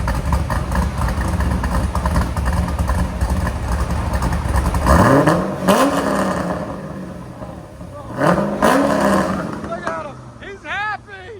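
Cammed Corvette Z06 with a 7.0L V8, headers and Corsa Sport exhaust idling with a loping, uneven rumble, close and loud, then a couple of quick throttle blips; voices talk over it.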